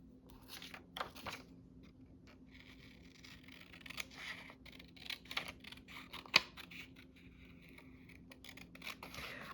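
Scissors snip out paper pockets for a junk journal, giving a quiet, irregular run of crisp cuts and paper rustles close to the microphone, with no speech.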